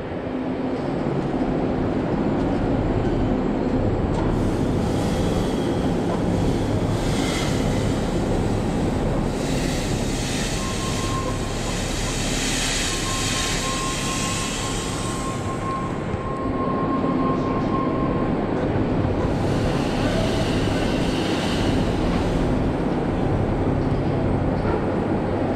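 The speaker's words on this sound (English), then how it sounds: "I'm just gonna pump some fog here." Fog machine pumping fog inside a ventilated barn: a steady, loud airy roar with two long hissing surges over constant background noise.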